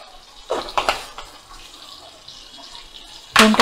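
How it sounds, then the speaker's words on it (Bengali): Cumin seeds are dropped into hot oil for tempering a pumpkin and shrimp dish, sending out short bursts of hissing sizzle near the start and a louder, sharp crackling burst at the end, with a softer frying hiss in between. "এবার ওই একই তেলে আমি জিরে ফোড়ন দিয়ে দেব।"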